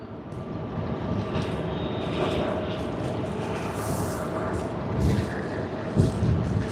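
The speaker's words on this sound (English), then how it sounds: "On screen right now, Malaysia Airlines Airbus A330-300 MH251 from Kuala Lumpur." A Malaysia Airlines Airbus A330-300 jet, flight from Kuala Lumpur at Sydney Airport, rumbles with a continuous mid-distance engine roar and a faint whine, swelling slightly toward the end.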